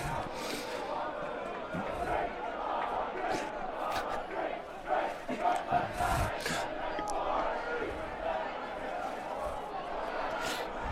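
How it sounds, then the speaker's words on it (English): Stadium crowd at a Cal Bears men's lacrosse game against Chapman at Memorial Stadium, singing the Cal drinking song as a broad, steady mass of voices that fills the whole stretch, with occasional shouts and bursts rising above the chant. "the crowd's now singing the Cal drinking song to bring us through the 4th quarter here"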